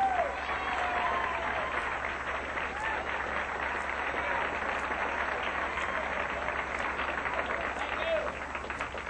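A comedy club audience applauds comedian Denny Johnson with loud, continuous clapping and some cheering, an even wash of sound lasting throughout, with voices faintly mixed in.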